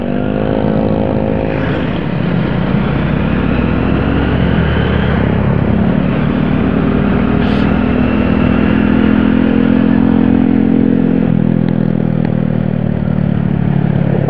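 Motorcycle engines on a Sunday morning group ride drone steadily and loudly throughout, with shifting revs and occasional rising pitch as the bikes ride along together.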